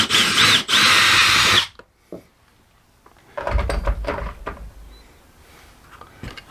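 A handheld power drill whirs loudly in two close bursts with a brief pause between them, then stops, followed by clunks and rattling of handling, as if the tool is being set down.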